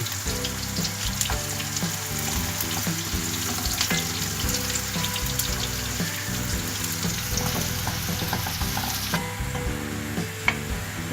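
Sliced onions sizzle steadily in a cup of hot oil for a cabbage and peas dish, a continuous close crackling fry with faint stirring and no talk.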